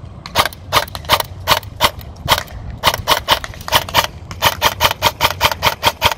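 Rapid sharp pops from an airsoft Beretta ARX 160 Elite rifle by Elite Force/Umarex, fired in quick bursts and single shots, close and loud throughout with a steady low hum beneath.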